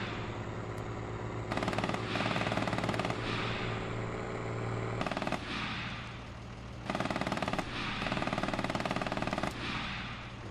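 Bursts of rapid video-game gunfire strike units in a battle, heavy and close, with a steady engine drone underneath and repeated volleys of a few seconds each.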